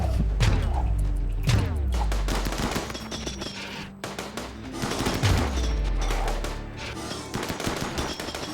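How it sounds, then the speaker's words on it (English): Volleys of SMG fire in RimWorld, aimed at a mechanoid centipede, come as repeated rapid bursts with heavy thumping impacts between them, loud and dense, with no one talking. "3 volleys for a centipede right now with just SMGs"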